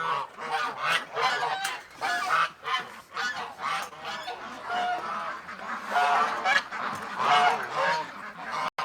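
Busy honking and quacking from farm fowl, with rapid overlapping calls at close range throughout.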